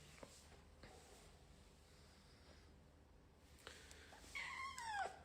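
A pet cat meows indoors near a woman who coos at it, the mewing brief and moderately close toward the end amid quiet room noise.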